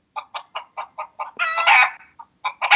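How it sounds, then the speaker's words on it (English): A chicken clucks in a steady run of short, evenly spaced calls, then breaks into a louder squawking burst before the clucking resumes, close and clear with no talk. "Chicken or cock?"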